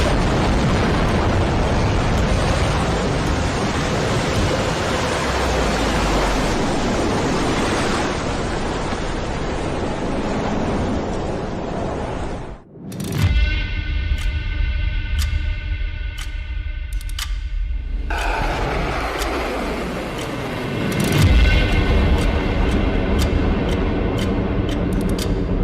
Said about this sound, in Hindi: न्यूक्लियर ब्लास्ट का यह रिप्रेजेंटेटिव वीडियो देख लीजिए। दस सेकंड भी नहीं लगेंगे, कुछ नहीं बचेगा, सब कुछ तबाह हो जाएगा।